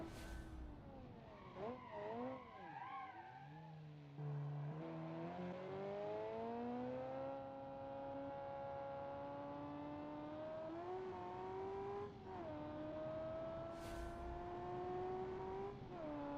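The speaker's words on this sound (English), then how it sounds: "It does sound like a Ferrari." Ferrari-like 1960s wedge-shaped supercar engine in the BeamNG racing game, revving and sweeping up and down through gears with a steady roar and brief tire skidding, loud and close for the whole stretch.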